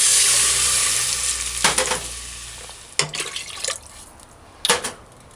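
Water poured into a pan of fried pork and onions for a stew sets off a loud, close sizzle that fades over a few seconds, broken by sharp clatters of stirring.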